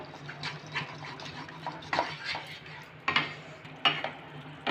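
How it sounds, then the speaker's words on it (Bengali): Yogurt mixed with spices for doi potol posto, a Bengali pointed-gourd dish, stirred in a pan with a soft steady sizzle and scraping, plus sharper utensil knocks against the pan near the two-, three- and four-second marks. "দইটাকে আমি মশলার সাথে ভালো করে দু থেকে তিন মিনিটের মতন মিশিয়ে নেব"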